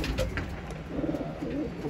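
A pigeon wounded at the throat by a hawk coos softly and steadily at close range over low background rumble, with no talking.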